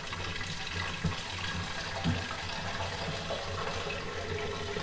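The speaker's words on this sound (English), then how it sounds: "the toilet will fill back up with water again, or cistern rather" A concealed toilet cistern refills with water after the isolation valve is reopened, giving a steady, even hiss and rush of running water with no pauses, moderately quiet and continuous.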